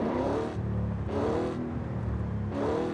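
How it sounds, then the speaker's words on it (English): Audi engine with a modified intake in the racing game Forza Horizon 5, rising in repeated revving sweeps with a rough mechanical induction roar, steady and moderately loud with no talk. "the induction sound is crazy now with the intake"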